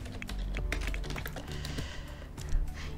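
Rapid computer keyboard typing while searching the Sims 4 gallery, a steady run of close, crisp key taps with one louder clack near the end.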